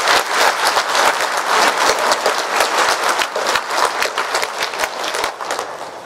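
Loud, dense applause from a congregation at a Lunar New Year memorial Mass, welcoming visitors home; steady crowd clapping fills the whole stretch without letting up.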